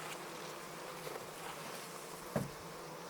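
Honey bees at an opened hive during an inspection, a steady soft buzzing hum throughout with one brief knock or clunk near the end, no voices.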